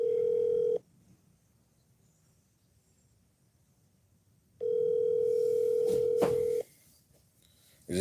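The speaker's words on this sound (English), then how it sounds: "It's just ringing and ringing." A telephone ringback tone buzzes twice while calling a boxing gym, a long steady burst, a pause of silence, then another burst, with a third just starting at the end.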